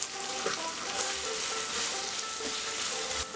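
Cinnamon and ginger paste sizzle loudly in a hot pan as a spoon stirs them, giving a dense steady crackle with occasional scraping strokes, close and continuous with no voices.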